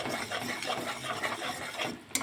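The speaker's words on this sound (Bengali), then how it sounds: "ভালো করে মশলাটা কষিয়ে নেবো।" A vegetarian spice paste of ginger, cumin, tomato, chili powder and coriander being sautéed and stirred in a pan, heard as close, continuous rasping scrapes of a spatula, with a brief knock near the end.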